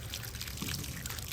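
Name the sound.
muddy water flowing from reopened water line taps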